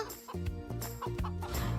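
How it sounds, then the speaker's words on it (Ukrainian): Chickens clucking in a children's cartoon about little cars, a poultry truck's hens scattered on the road, with quick repeated clucks and cackles in bursts over background cartoon music. "Але курочки, яких він віз на ферму, розбіглися бібі."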